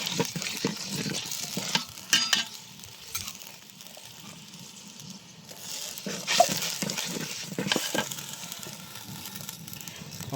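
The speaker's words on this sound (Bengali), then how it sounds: "একবার কষাইছি, আর একবার একটু জল দিয়ে কষাই নিচ্ছি মশলাটা ভালো করে।" Meat and spice masala stirred and frying in a pan, a steady low sizzle with scraping stirring strokes and occasional louder bursts of spatter, close by and continuous throughout.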